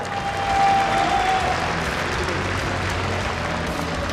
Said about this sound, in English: Big round of applause for Socke